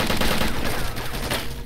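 Rapid gunfire from the survival video game DayZ rattles in a dense, continuous burst of overlapping shots, loud and close, with no talking over it.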